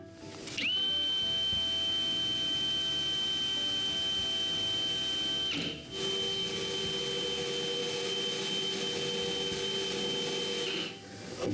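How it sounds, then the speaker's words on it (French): A power drill bores holes into the top of the wooden sides of a dresser, giving a high, steady whine. It runs for about five seconds, pauses briefly, then spins again for another five seconds, close and fairly loud. "Pour pouvoir les fixer, je dois percer des trous sur le dessus des côtés."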